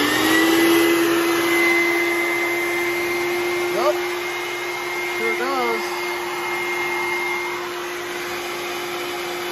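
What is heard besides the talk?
shop vacuum running on a solar inverter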